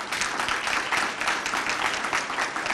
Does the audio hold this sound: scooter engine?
no